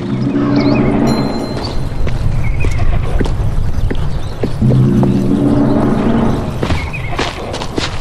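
A horse whinnies loudly and close in a PC video game, 1428: Shadows over Silesia, with hooves clopping steadily underneath and a low rumble throughout, then a second neigh follows.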